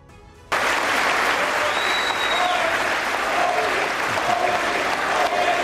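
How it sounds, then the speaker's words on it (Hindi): Members of the US Congress give PM Modi a standing ovation, loud sustained applause from a large chamber that starts abruptly and continues steadily throughout with a faint murmur of voices. "अमेरिकी कांग्रेस ने पीएम मोदी के स्वागत में खड़े होकर जोरदार तालियां बजाई"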